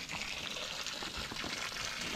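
A sprinkler sprays water steadily over a pig pen on a farm, a continuous close hiss and gush of water with no break throughout.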